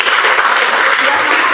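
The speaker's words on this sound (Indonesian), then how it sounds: "Tepuk tangan untuk kita semua." Classroom of students clapping their hands together in applause, a dense, loud, steady burst of many hands that fills the room for a moment and runs with no talk over it.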